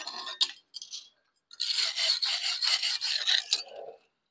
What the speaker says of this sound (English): We'll go ahead and clean it up a little bit with a wire brush.